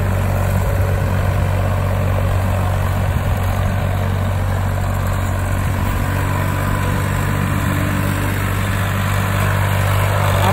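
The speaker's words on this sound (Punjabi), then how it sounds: "farm track 60 22 ਤਵੀਆਂ" A Farmtrac 60 tractor pulling a 22-disc harrow through a field gives off a loud, steady engine drone that stays constant throughout, with deep low rumble and no voices.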